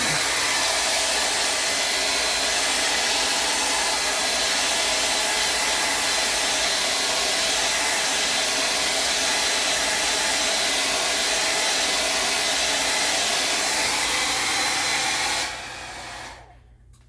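A hair dryer blows steadily and loudly for about fifteen seconds to dry a coat of decoupage on a rose project, then cuts off and winds down.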